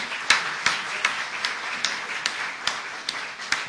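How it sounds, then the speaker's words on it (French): An audience at a conference on industrialisation claps in a steady, even rhythm of sharp claps, about two or three each second, at a moderate level. "Je vais vous demander de vous applaudir très fort pour vos contributions."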